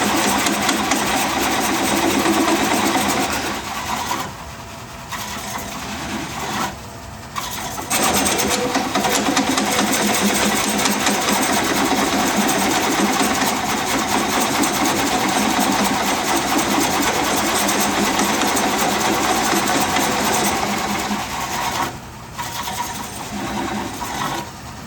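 A woodturning lathe spins a bowl blank while a Hunter Korpro coring tool cuts into it, making a loud steady mechanical hum and buzz that dips briefly a few times as the cut pauses.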